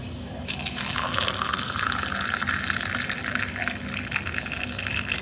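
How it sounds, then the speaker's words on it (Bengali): Hot water pours steadily into a glass holding haritaki, a continuous gushing, splashing fill that runs for about five seconds at moderate, close volume with no talk over it. "এবার তাতে গরম জলটা ঢেলে দেবো।"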